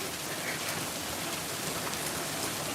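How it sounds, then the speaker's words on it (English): Heavy rain pours down in a dense, continuous hiss of drops hitting surfaces, steady and unbroken throughout. "Oh my God, it's just crazy rain."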